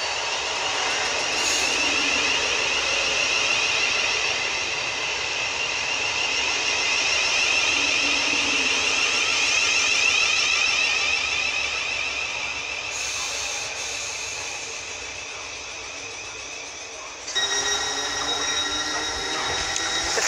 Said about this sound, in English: 455 is departing behind this.